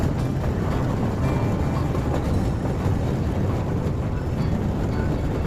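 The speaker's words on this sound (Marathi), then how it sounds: "ही ट्रेन सह्याद्रीच्या डोंगर रांगामधून धावते।" The Neral–Matheran toy train, a narrow-gauge heritage railway through the Sahyadri hills, rumbles steadily and continuously at close range, with a dense low-frequency roar and no talk.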